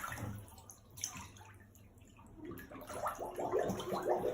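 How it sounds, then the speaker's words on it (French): Child blowing bubbles underwater during water-confidence practice in a pool, a soft run of bubbling gurgles building toward the end over a low watery background, close and moderately loud. "Et t'as fait des bulles en plus"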